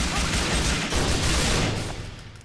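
Gunshots in the video game Grand Theft Auto 4, a loud, dense burst of rapid fire that fills the whole stretch and fades slightly toward the end.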